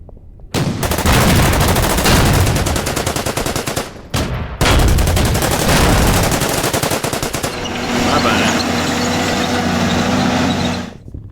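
Rapid, loud automatic firing in Order of Battle: WW2 runs in long bursts, with a short break in the middle. It gives way to a steadier engine-like rumble before cutting off.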